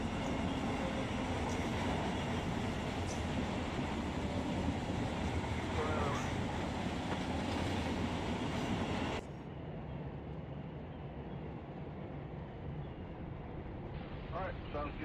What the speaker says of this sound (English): Oh wow, you got another train on the backside of that too.